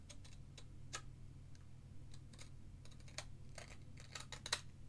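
A paper trimmer slices card pieces with a series of quiet, sharp ticking clicks and short swishes, irregularly spaced against a low background hum.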